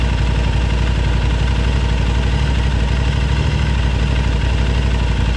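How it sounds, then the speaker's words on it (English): An Aprilia RS660 sport motorcycle idles with its radiator cooling fan running, a loud, steady engine throb with an even pulse and the fan's whir mixed in, no talking. "The fan is running."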